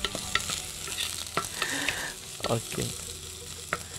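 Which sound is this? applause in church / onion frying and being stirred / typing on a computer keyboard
onion frying and being stirred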